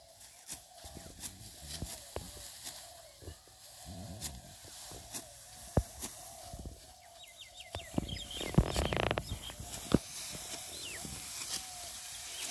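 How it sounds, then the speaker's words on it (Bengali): Birds chirp and twitter around a paddy field during the Rupa Aman rice harvest in Naogaon. The calls come scattered against outdoor noise with clicks and rustling, and a louder burst of noise comes near the end. "পাখিদের কিচিরমিচির ডাক চতুর্দিকে,"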